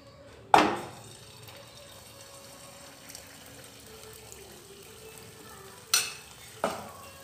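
Sweet appam batter is ladled into hot oil with a sharp sizzle that fades, then two more bursts of frying sizzle follow close together, nearby and with no talking.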